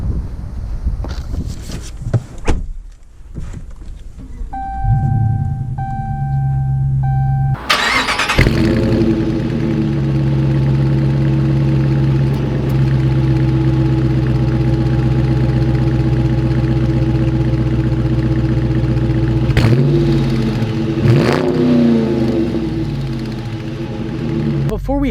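A 2019 Dodge Challenger Stars and Stripes Edition cranks with chimes sounding inside the cabin, then fires into a loud, deep idle that is blipped into a brief rev later on. Faint talk and wind buffeting come before the start.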